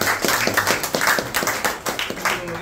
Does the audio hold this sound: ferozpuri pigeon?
no